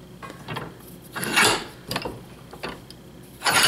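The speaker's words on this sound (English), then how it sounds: "at the vise, I'm just going to stick this cable into here." A large battery cable is pushed into a metal vise and handled, giving several close scraping rubs and knocks of wire against metal, with a louder grind at the start and end.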